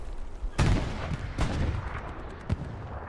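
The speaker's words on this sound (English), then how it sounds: "Shadow throwing grenades onto the Airhead" Grenade explosions in the World War II shooter Hell Let Loose, fought at Driel's Brick Factory: three sharp, heavy booms spaced a second or so apart, the first the loudest, over a constant rumble of distant battle.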